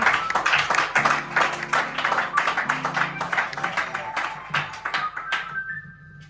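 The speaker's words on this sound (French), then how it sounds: "Est-ce qu'on peut l'applaudir, s'il vous plaît?" Audience at an African development conference applauds, rhythmic clapping in bursts over a sustained keyboard tone, gradually thinning and fading out toward the end.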